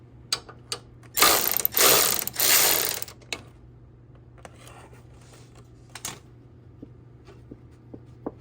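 A power tool rattles in two loud bursts of about two seconds each, then gives a few short clicks and taps while someone works under a 1987 Buick Regal Limited Turbo.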